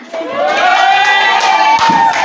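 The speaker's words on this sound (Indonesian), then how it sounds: "Tepuk tangan." Schoolchildren in a classroom cheer and shout loudly together, a continuous, close crowd roar of young voices lasting a couple of seconds, with some clapping mixed in and no distinct speech.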